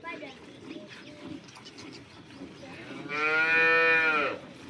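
Local Banaskantha cows lowing: one drawn-out, fairly loud moo near the end, preceded by quieter farmyard background sounds and faint calls.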